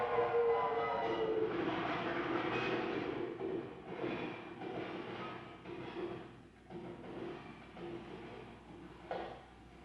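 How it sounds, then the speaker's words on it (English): A muffled rumble of a train rolling past, steady and heavy with a faint tonal whine near the start, heard as if through walls. "Train muffled."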